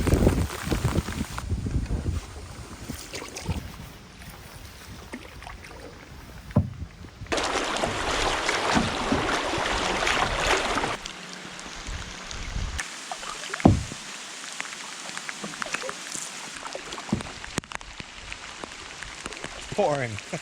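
Rain pours onto a river around a canoe paddling the Connecticut River, a steady hiss with paddle splashes and knocks against the hull, and a voice speaks briefly.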